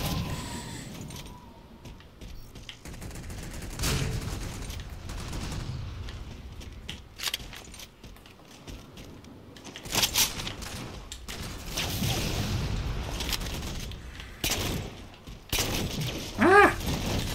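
Gunfire in Halo 4 multiplayer on the Gas Town custom map, with sniper and shotgun shots cracking out in scattered bursts across a busy match, some blasts loud and close, others farther off, amid clattering game effects.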